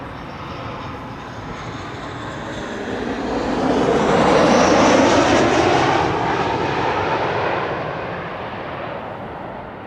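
A Transavia Boeing 737-800 airliner arriving at Amsterdam Schiphol swells from a distant rumble into a broad jet roar that peaks midway, then slowly fades as it passes.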